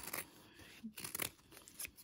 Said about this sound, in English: for the rest of the seams, you can just use straight scissors.